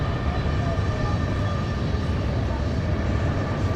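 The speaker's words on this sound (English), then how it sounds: "as the train goes by" A train passes beyond the right-center field fence at a high school baseball game, a continuous low rumble held steady throughout, with a faint voice underneath.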